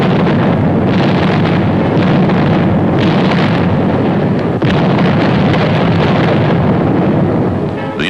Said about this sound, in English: the enemy was kept off balance with our artillery fire